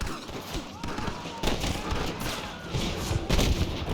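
Dense volleys of gunfire from a Red Dead Redemption shootout crackle nearly nonstop, with louder bursts piling up toward the end and voices shouting in the background.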